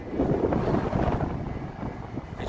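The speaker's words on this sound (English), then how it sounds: "It sure is windy today." Strong wind roars and buffets the microphone in a dense, rumbling rush, loudest at first and easing slightly toward the end.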